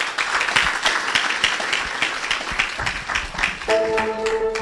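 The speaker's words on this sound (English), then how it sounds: "A round of applause." Audience at a university citizenship and nation-building dialogue event applauding, a dense, continuous burst of many clapping hands, with a musical tone entering near the end.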